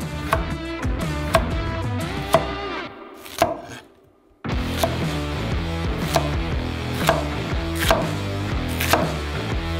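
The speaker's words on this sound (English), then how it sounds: "Meanwhile, we will cut zucchini." A knife chops zucchini on a cutting board in quick, regular strokes, each one a crisp close knock. The cutting pauses briefly midway, then carries on at the same steady pace.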